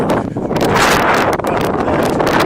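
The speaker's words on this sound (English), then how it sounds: "The wind is out of the south, finally." Strong wind buffets a microphone in gusty bursts outdoors at the Wichita Mountains Wildlife Refuge, loud and continuous with no voices.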